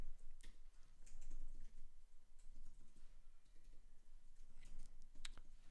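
Computer keyboard typing while writing Firebase code, a quiet scattering of soft key clicks and taps over low room noise, with a sharper click cluster near the end and no talk.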